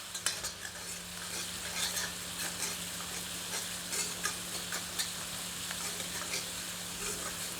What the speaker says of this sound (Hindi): आंच को मध्यम कर लेते हैं और प्याज को तब तक भूनते हैं